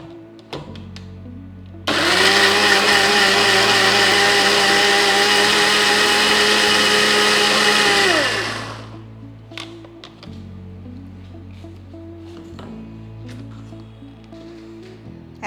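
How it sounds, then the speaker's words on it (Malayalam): An electric mixer grinder blends spice paste with coriander leaves, switching on abruptly into a loud whirring roar for about six seconds before winding down, with quieter kitchen handling noises around it. "ഇനി സ്മൂത്തായിട്ട് അരച്ചെടുക്കാം."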